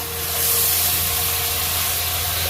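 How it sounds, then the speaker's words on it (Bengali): Garlic frying in a pan, a continuous bright sizzling hiss held at an even level, close and without any voices. "রসুনটা ভালো করে ভাজবো আগে।"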